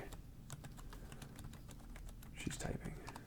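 Rapid keystrokes on a computer keyboard in a home woodworking shop, an irregular patter of light clicks at moderate distance, with a burst of murmured talk near the end.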